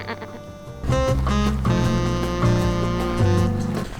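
Sheep bleating on an Icelandic hillside, several loud wavering bleats close by that overlap one another and carry on with no talking.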